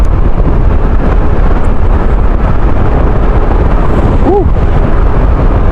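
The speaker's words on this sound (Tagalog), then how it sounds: "Medyo malakas yung hangin" Strong wind buffets loudly and constantly on the Tarlac-Zambales Road in Tarlac, Philippines, a dense roaring rush with a brief faint voice-like sound near the end.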